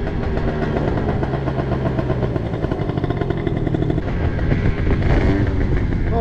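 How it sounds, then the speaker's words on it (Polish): An Italjet Dragster racing scooter idles nearby with a steady, throaty two-stroke burble, a continuous close engine drone that holds level throughout. "Skuter wyścigowa."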